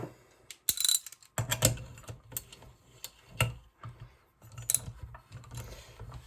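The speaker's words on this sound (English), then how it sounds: "And I'm just going to tighten this down enough that I can test the spark." A nut is tightened onto the flywheel of a Homelite Super XP 1130 chainsaw with a ratchet, making quiet, close clicking bursts in irregular groups with short gaps between them.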